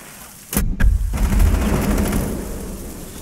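Gunfire in Rainbow Six Siege during a bank team deathmatch, a sudden loud burst of a few close shots followed by a booming, echoing tail.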